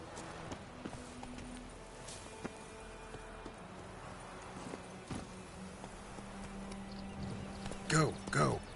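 Horse hooves clip-clop at a steady walking rhythm in The Witcher 3: Wild Hunt on PS5, moderately close. A voice talks over them, and a louder burst of hoofbeats comes near the end.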